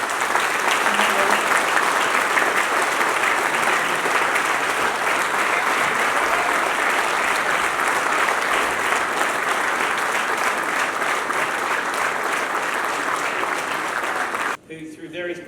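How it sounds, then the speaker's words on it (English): A congress audience of park rangers gives long, loud applause for the organising committees, a dense continuous roar of clapping with faint voices underneath, cutting off abruptly near the end. "I'd like you to give a huge round of applause to the organising committees"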